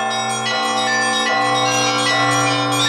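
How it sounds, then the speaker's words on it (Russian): Church bells peal together at an open-air bell-ringing festival in Suzdal, a dense, loud, continuous mass of overlapping ringing tones with no talk. "Колокольный звон разносится по всей округе Суздаля."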